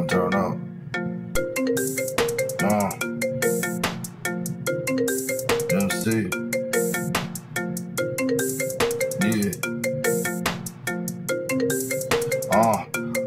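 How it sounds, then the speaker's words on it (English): A mobile phone ringtone plays over and over in a bright, tonal, repeating melodic pattern, loud and steady throughout, with brief talk mixed in. "Damn, my phone going crazy."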